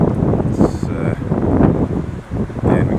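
Wind buffeting a camera microphone outdoors at sunset on a city boulevard in Montreal, a loud, steady rumbling roar with gusty swells and a brief dip near the end.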